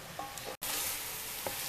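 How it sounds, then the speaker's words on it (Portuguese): Tomato and other ingredients fry in a pan for a beef shank broth, giving a continuous bright sizzle with a brief dropout near the start before the crackling resumes, steady and close. "Então vamos deixar fritando aqui um pouquinho e voltamos."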